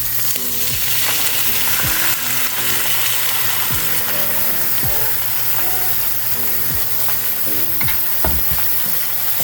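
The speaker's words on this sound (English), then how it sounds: "In with our rice" Rice tipped into a pot with lamb and stirred, steady sizzling and frying with scraping spoon strokes against the pot, loud and close.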